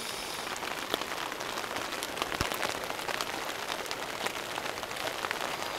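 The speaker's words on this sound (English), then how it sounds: "A little bit of rain never hurt nobody." Steady rain patters on surfaces close by on a backpacking trip at Priest Lake, Idaho. It falls as a dense, even hiss with scattered louder drops and no talking.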